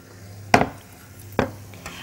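A frying pan is picked up and handled in a home kitchen while making beef quesadillas: two separate clattering metallic knocks about a second apart, close and fairly loud, followed by a faint tap, with no talking.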